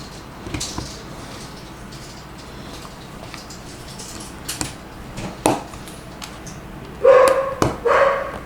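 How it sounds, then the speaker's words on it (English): Dogs barking in bursts near the end, a few sharp barks standing out over a low indoor background with scattered clicks and knocks. "I can hear the dogs barking."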